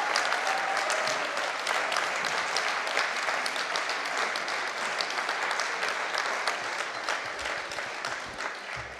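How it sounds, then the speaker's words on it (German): Steady, dense applause from a crowd of delegates at a Green Party state convention in Siegburg, holding evenly for the whole stretch and easing only slightly toward the end. "Applaus"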